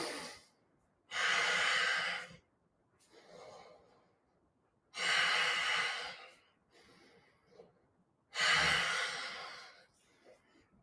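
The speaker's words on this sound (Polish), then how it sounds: "Długi, głęboki oddech." A person takes long, deep breaths during a yoga class, three slow airy inhale-exhale cycles, each a loud rushing breath lasting over a second with quieter tails and pauses between, close to the microphone.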